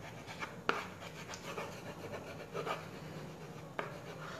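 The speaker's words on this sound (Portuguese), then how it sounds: "Aí eu pego a dobradeira, dou uma fixada principalmente aqui nas pontas" A bone folder rubs and presses a decorative sticker onto a tray, giving soft, close scraping strokes in an uneven rhythm with a couple of sharper taps, heard alone at low level.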